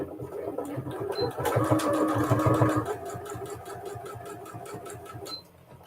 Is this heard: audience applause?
no